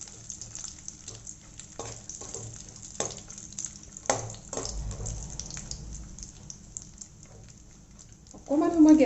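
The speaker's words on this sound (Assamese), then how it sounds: "এতিয়া তাতে কেইটামান খিচমিচ, কেইটামান কাজু, কেইটামান এলমণ্ড আৰু কেইডোখৰমান ডাব নাৰিকল কাটি দিছোঁ। এইকেইডোখৰ ভাজি ল'ম।" Cashews, raisins, almonds and pieces of tender coconut fry in ghee for a pumpkin halwa, giving a soft steady sizzle with light stirring clatters and a louder burst of frying near the end.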